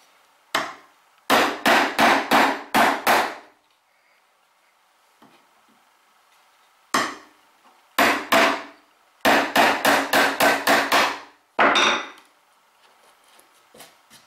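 Bursts of rapid hand-saw strokes cut a mortise through in wood, several quick runs of strokes separated by pauses, close and fairly loud, no talking.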